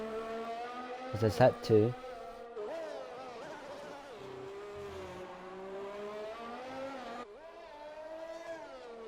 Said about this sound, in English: Warming up their tires to start the the 3rd lap